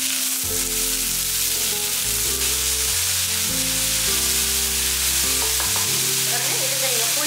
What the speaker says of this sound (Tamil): இதெல்லாம் ஒன்றா சேர்த்து நல்லா வதக்கிடலாம்.